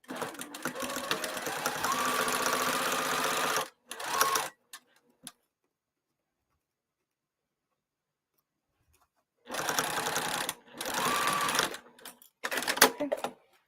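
A sewing machine runs a seam with a 3 stitch setting, back tacking at the start and stop: two bursts of steady mechanical whirring separated by a long silence, with brief stops and starts.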